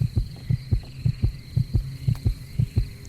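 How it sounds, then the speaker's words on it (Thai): A heartbeat sound effect from the Roblox game Survive the Night: a loud, steady lub-dub thumping of about a dozen evenly spaced beats over a faint constant hum, with no voices. "หัวใจเต้นหนักมากทุกคน"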